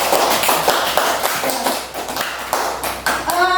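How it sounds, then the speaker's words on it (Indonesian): A classroom of students clapping their hands together in quick, rhythmic unison, loud and close, with brief pauses between bursts and a faint voice at the end. "tepuk tangan dulu"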